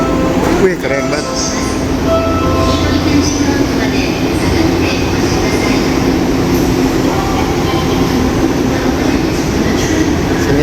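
An out-of-service train sits at a Japanese station as its doors close, with a steady loud rumble of the train and platform throughout and a recorded announcement playing over it.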